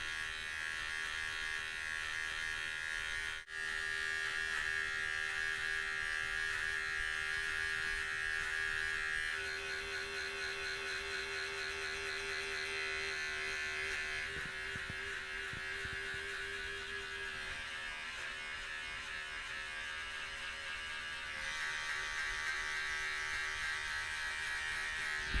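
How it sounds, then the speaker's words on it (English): Electric hair clippers fitted with a number 2 guard, used to blend out a hard line at the end of a self-administered buzz cut, give a steady, close electric buzz that runs unbroken throughout with no talking. "So now using the number 2 guard lever open, just gonna go back and completely get rid of this hard line to finish off the self haircut."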